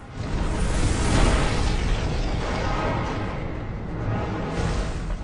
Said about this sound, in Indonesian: Ivy dan Eric yang menyaksikan ledakan hancurnya gedung parlemen